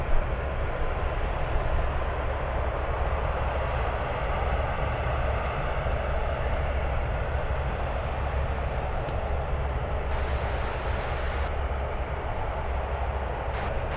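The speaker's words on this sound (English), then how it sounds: "Reject the takeoff" Airplane aborting its takeoff roll at SFO, a loud continuous engine roar that holds steady across the whole stretch, with a brief hiss of extra noise near the end.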